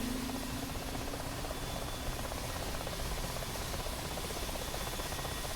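An AH-64D Apache helicopter in the DCS World flight simulator, a steady dense rotor and turbine roar that fills the whole clip with constant vibration, loud and even, no voices.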